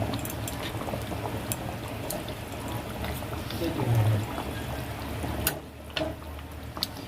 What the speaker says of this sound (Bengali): ও ফুটতে আরম্ভ করেছে, এবার মাছগুলো দিয়ে দেবো।